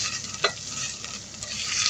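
Garlic sizzles in a hot pan with a bright, steady frying hiss and a quick scrape of stirring near the start, close and alone without talk.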